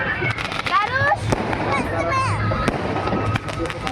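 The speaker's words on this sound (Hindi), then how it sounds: "ये देखिए दोस्तों यहाँ पटाखे फूट रहे हैं।" Firecrackers burst in a busy outdoor setting near a ghat, with scattered sharp pops and crackles over crowd noise and a whistling rise, while people talk nearby.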